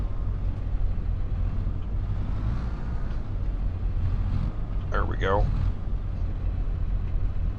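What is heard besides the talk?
tractor engine running while turning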